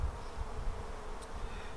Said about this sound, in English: sending vibrations through the hive, which agitates the bees